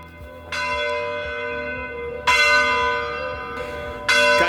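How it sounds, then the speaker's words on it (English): Church bell in Limone sul Garda on Lake Garda tolling for six o'clock, loud resonant strikes spaced a couple of seconds apart, each ringing on and overlapping the next. "Got here just in time for the 6 o'clock bell"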